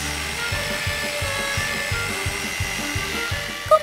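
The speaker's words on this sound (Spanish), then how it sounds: "Veamos qué tan fuerte eres con un taladro. ¡Oh, sí! ¡Está perforando un agujero!" A power drill boring a hole into hard wood: a steady, loud mechanical whine with a rhythmic low chugging pulse throughout, ending with a short squeak.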